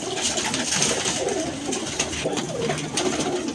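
Several pigeons coo softly in overlapping, throaty murmurs, a close, continuous bubbling chorus without pause.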